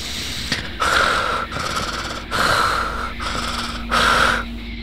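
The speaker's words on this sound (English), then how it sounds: "Come up with something different than just breathing into the phone." Heavy breathing into a phone through a plugged nose, close and loud, with three long rasping breaths in a slow, steady rhythm and no talking.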